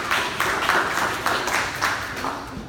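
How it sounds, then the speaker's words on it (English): An audience at a tech presentation claps steadily for an incoming speaker, a moderate, continuous patter of hands in a room with no voices over it. "Let's give Alex a round of applause."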